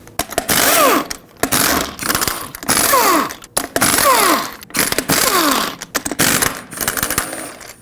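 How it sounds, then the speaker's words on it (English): Impact wrench or power tool zipping off 22mm lug nuts on a GMC Yukon wheel during a parking brake shoe job, several loud repeated bursts with brief pauses between them. "6 22mm lug nuts hold this wheel on. Remove them all."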